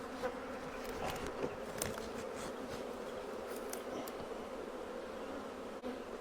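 Honey bees buzz steadily around an opened hive of abandoned bees during a first inspection in over six years, a dense continuous drone with individual insects flitting close to the mic.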